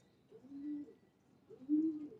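Rampuri high flyer pigeons coo on a rooftop in two soft, separate rounds, each a low throaty rolling call, heard close but faint against a quiet background.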